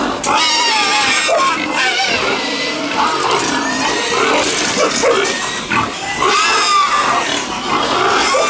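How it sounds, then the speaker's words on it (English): Hungry pigs on a farm squeal and oink loudly and without a break, a dense chorus of overlapping high cries close by, with voices faintly mixed in. "you're just going to have to put up with the noise. These pigs are hungry."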